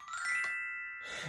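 A couple of bright glockenspiel tones ring out, one sustaining smoothly before another struck note cuts in near the end.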